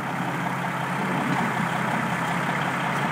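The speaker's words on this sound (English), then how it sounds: "It's their little bobcat" A small Bobcat skid steer works in snow in Winnipeg, loading a big International truck, giving a continuous close diesel rumble at a fairly even level with no talk.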